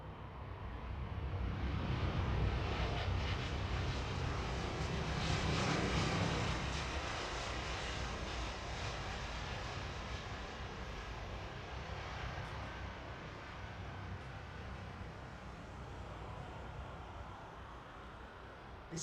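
Boeing 737-800 jet engines idling on an airfield give a loud, steady, broad roar that holds close and fairly constant for the whole stretch, swelling slightly early on, with no voices.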